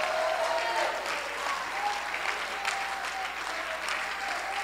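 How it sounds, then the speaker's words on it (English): A church congregation claps during a sermon, a full, sustained round of many hands filling the room at a steady level, with a faint tonal hum beneath. "you need to clap right now."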